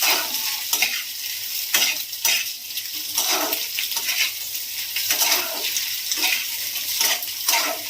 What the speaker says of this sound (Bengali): এই ভেঙে নেওয়া ডিমগুলোকে একটু ভেজে নেব অল্প একটু।